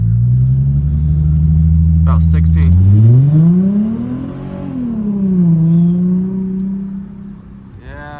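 A Chrysler Crossfire's engine holds at a brake-torque launch, then revs rise sharply as it accelerates with a loud, close rumble, dipping and climbing again through a gear change; people talk briefly over it.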